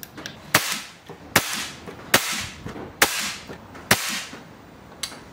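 Five sharp, loud shots from a .22 air rifle firing Zan slugs at a raised power setting, spaced roughly a second apart, each with a brief ringing tail and no talking.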